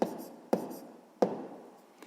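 Pen strokes scratch on paper during a sixth-grade maths exercise: three short, close taps roughly half a second apart, each fading quickly, with no talk over them.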